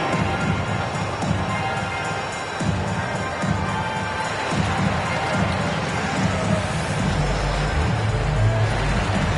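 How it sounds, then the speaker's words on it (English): A basketball arena crowd in the NBA 2K23 video game cheers and applauds for the dance team, a broad, sustained roar of many fans, continuous and moderately loud, with no distinct voices. "Fans, please give a big round of applause for your dance team."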